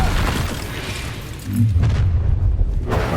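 A Confringo fire-blast spell goes off during combat in Hogwarts Legacy. It makes a booming, rumbling burst that swells midway through a few seconds of game noise, with no talking.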